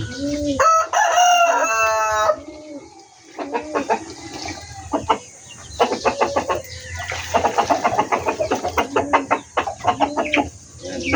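A rooster crows loudly near the start, followed by a run of repeated clucking from chickens kept outside, close and busy, with faint background noise.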